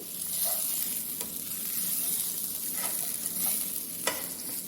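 French fries sizzle steadily in hot oil in a pan, with occasional soft scraping stirs breaking through the continuous frying hiss; close and moderately loud, no talking.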